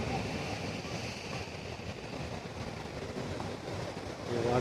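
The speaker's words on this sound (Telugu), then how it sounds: "వాటర్ చూడండి, ఆడదాకా వెళ్తున్నాయి అలలు." Ocean waves surge against the rocky coast along the Great Ocean Road in Australia, heard close by as a continuous rushing wash with wind buffeting the microphone, swelling louder toward the end.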